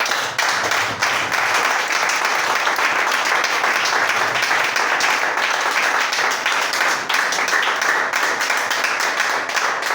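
Church congregation applauding steadily and loudly throughout, a dense wash of many hands clapping at once with no break.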